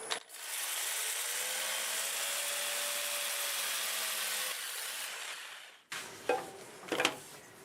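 Sandpaper rubs against a spinning maple bowl on a wood lathe turning in reverse, giving a steady abrasive hiss over the motor hum before it stops, followed by a few clunks of handling.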